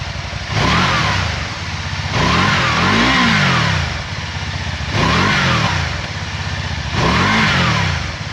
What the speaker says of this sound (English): So this is what the factory exhaust sounds like.